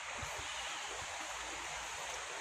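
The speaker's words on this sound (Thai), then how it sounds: "เสียงน้ำไหลไป" Flowing water from a stream or small waterfall beside a resort cabin in cool hill country, a steady broadband rush that continues without a break at moderate distance, with no voices.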